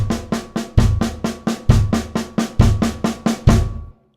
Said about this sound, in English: at a slower tempo with single strokes, that's going to sound a bit like this.